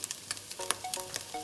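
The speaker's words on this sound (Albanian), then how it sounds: "Skuqim edhe pak karrotën." Carrot frying with minced meat in a pan for soup: faint sizzling with scattered light scraping and stirring clicks, no voices.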